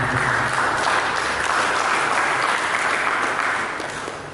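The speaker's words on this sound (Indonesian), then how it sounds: "Berikan tepuk tangan." Congregation applauding during a church service, dense sustained clapping filling the room loudly before tapering off slightly at the end.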